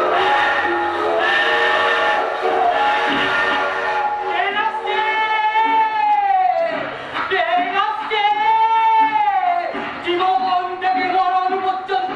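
A loud, drawn-out steam train whistle sound effect in a Bengali jatra stage play blows in several long wavering blasts, rising and bending in pitch, with brief pauses between them.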